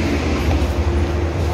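A train at platform 7 at an Indonesian station gives off a dense, loud low rumble with a steady roar, close by and alone.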